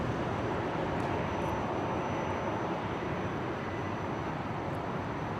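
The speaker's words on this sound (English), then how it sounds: "Qantas Link 1881 touching down from Cairns on 19 left there" A Qantas Link Embraer jet touches down on runway 19 left at Brisbane, heard as a steady, broadband engine roar that holds at moderate level throughout, with no talk over it.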